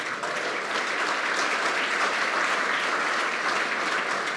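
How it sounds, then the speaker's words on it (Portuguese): A crowd claps steadily and loudly throughout, a dense wash of applause with no break. "Palmas para o GPS."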